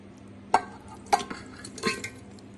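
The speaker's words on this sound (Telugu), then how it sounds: "ఇలా ఒక ప్రెషర్ కుక్కర్ తీసుకునండి మాంసం అంతా ఈ కుక్కర్లో వేసేసుకోవాలి" Chicken meat being dropped into a metal pressure cooker, heard as three distinct clanking, scraping knocks about half a second apart, close and fairly loud over a quiet background with no talking.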